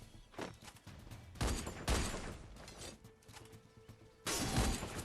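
Gunfire in the online shooter game Free Fire: several loud bursts of rapid shots with crackling impacts, separated by short quieter pauses, close and harsh.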